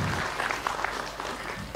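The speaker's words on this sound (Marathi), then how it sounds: "एकदा आपण आपल्या सगळ्यांसाठी टाळ्या होऊन जाऊ दे." An audience in a packed hall claps steadily, dense and even applause that fills the clip, with no speech over it.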